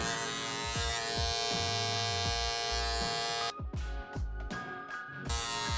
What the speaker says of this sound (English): I'm gonna get that out just using my Andis no guard all the way open